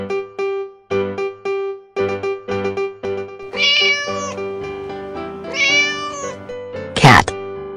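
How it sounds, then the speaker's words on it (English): A cartoon cat meows over a bouncy children's music track, with two drawn-out meows in the middle and a sharp, loud yowl near the end. "Cat."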